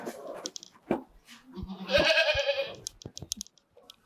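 Saanen dairy goats on a milking farm give a loud, wavering bleat amid scattered clicks and knocks from the pen, close by and with no talk.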